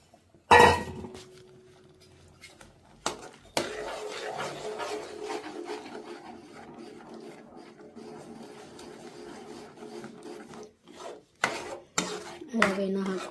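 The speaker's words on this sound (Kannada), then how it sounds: "ರವೆಯನ್ನು ಹಾಕೋತಿದ್ದೀನಿ." Roasted wheat semolina for upma being tipped into boiling water and stirred: a sharp clatter at the start, then a continuous scraping, rubbing stir in a pot, broken by a few louder knocks and clinks of the utensil; no talking.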